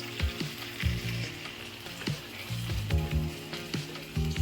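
Spices sizzle and hiss steadily in a hot pan as spice-rinsing water goes in for a fish head and cauliflower curry, with a few soft clatters and stirring noises throughout.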